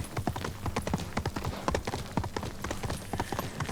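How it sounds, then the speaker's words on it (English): Horse hooves clip-clop steadily at a trotting rhythm in the video game Ghost of Tsushima, close and clear while riding through a forest, with no talk over it. "Even traveling on the horse is very easy."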